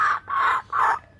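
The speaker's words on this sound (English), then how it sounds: "that's another Kookaburra that doesn't have a nickname yet" Laughing kookaburra calling in an Australian backyard, three loud, close raucous bursts in quick succession with brief gaps between them, no talking.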